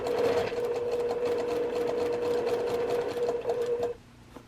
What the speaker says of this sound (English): I'm going to start sewing slowly